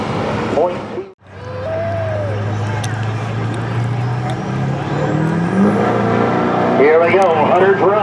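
A 2003 GMC diesel 4x4 truck pulls a sled at a truck pull, its engine roaring loud and rising in pitch as it labors down the track, with an announcer's voice over it.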